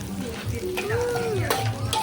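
Food sautés steadily in a pan while cooking beef porridge, a soft continuous frying hiss with faint background voices and a brief clink.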